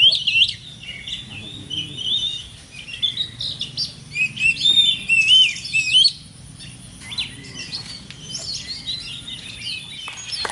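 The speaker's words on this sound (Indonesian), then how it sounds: "Ini burung yang tadi di bawah saya videokan tadi ini" An oriental magpie-robin in breeding condition sings close by in bursts of bright, varied chirps and whistled phrases, with brief pauses between them, over a low background hum.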